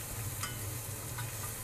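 Food stirred in a pan gives a soft, steady sizzle with faint scraping for a moment, fairly quiet and with no talking.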